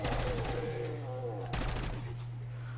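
Gunfire from the zombies mode of Call of Duty: Black Ops 6, with a sharp shot cracking out midway over a steady, dense bed of game audio and a low hum that runs throughout.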